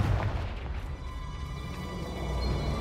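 A Confringo blasting spell goes off in a wizarding video game, giving a sustained rumbling explosion with a heavy low-end roar that fills the short moment.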